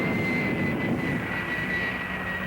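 An airplane's engine drones steadily and fairly loud throughout, a continuous roar with a sustained high whine and no speech over it.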